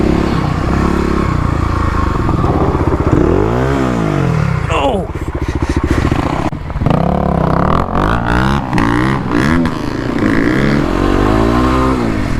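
A Kawasaki KLX351 dirt bike fitted with an FMF Q4 exhaust and Mega Bomb header, ridden off-road, revs loud and close with repeated rising and falling engine sweeps, with talk over parts of it.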